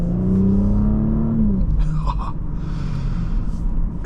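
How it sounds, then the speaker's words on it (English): A 2024 Audi S5 Sportback's 3.0-litre turbocharged engine pulls hard from inside the cabin, a deep steady drone rising in pitch and then easing off, with no talking over it. "There's a lot of torque coming from this engine"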